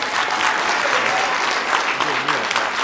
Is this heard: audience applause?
yes